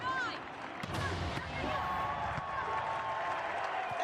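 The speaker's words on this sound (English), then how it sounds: "The crowd go wild and they respond." Crowd in the London 2012 video game cheering and applauding during a volleyball-style match, a steady roar with a commentator's voice talking over it and faint ball hits.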